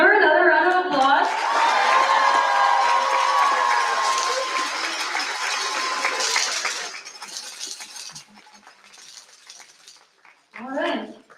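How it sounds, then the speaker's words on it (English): An audience at the opening ceremony of the 2024 Texas Great Debate gives a loud round of applause with some cheering that gradually thins out and fades to scattered claps before a voice returns. "Can we give her another round of applause?"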